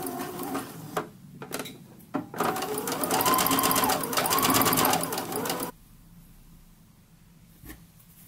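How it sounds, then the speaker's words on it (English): A sewing machine runs steadily for a few seconds, stitching lace onto fabric for heirloom-style garment sewing, with shorter start-stop bursts of stitching before it and quiet afterward. "sew some straight stitches on either side here"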